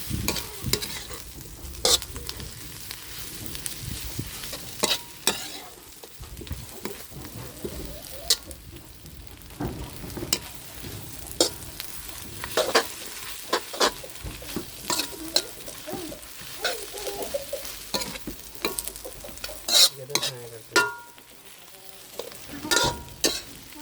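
Glass noodles stir-fried with egg and dark soy sauce in a pan, with continuous sizzling and frying under frequent scraping and clattering stirring strokes, close and steady, no talk.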